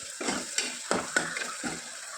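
Tomatoes soften in a hot pan of tempering for mutton curry. A soft sizzle runs under a few brief scraping stirs.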